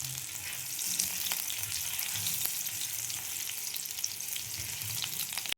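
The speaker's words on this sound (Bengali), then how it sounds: "আলুগুলো একটু লাল করে ভেজে নেব।" Potatoes fry in a pan with a steady, close hiss and sizzle of hot oil, plus a few soft clinks as they are stirred, with no talk.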